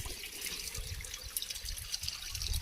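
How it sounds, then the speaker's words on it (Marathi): A faint, steady trickle of running water, like a container being filled, continuing without pause. "पाणी भरते"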